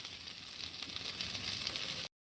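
A smash burger of ground chuck with onions fries on a hot Blackstone griddle, giving a loud, steady, close sizzle with no talk that cuts off abruptly.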